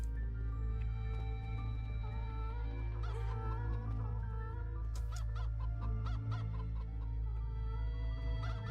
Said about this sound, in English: make your damn chicken noises